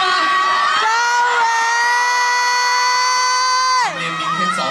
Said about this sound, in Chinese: 他们也是为了我们接下来要抽取的这个奖品在呼喊呐喊